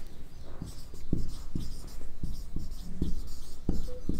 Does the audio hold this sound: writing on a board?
yes